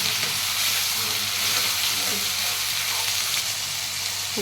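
Roasted masala paste for misal sautéing in a pan while being stirred, a steady close sizzle and hiss running unbroken with faint scraping underneath.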